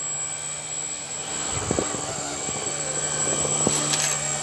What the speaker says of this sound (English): Now that the super noisy electric helicopter is over there.